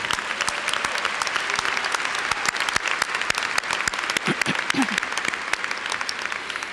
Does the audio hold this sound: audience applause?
yes